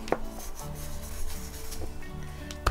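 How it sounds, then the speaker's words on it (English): A foam ink dobber lightly scuffs the surface of a card to age a vintage photo craft, making soft repeated rubbing and dabbing strokes, close and fairly quiet. "I'm just going to lightly sort of scuff the card with the dobber"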